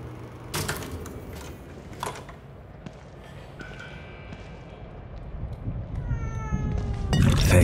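A cat meows in The Evil Within 2 video game, a few short mews heard among creaks, mechanical clicks and other game sounds, growing louder toward the end.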